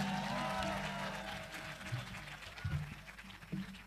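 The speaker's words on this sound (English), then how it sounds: "Can we have a thunderous applause for all of them on stage?" A crowd applauds quiz teams on stage at a business quiz event on a beach, fairly faint, steady clapping with a low murmur of voices beneath.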